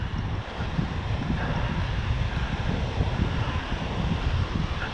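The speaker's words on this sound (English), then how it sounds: "Lots of bigger waves today." Ocean waves surge and wash on a beach under steady, buffeting wind, a loud continuous roar with rumbling gusts hitting the microphone and no speech.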